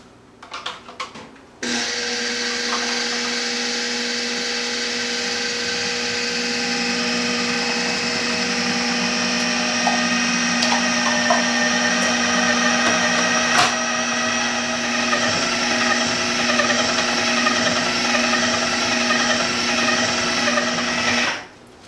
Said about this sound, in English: Now I'll have my food processor set to low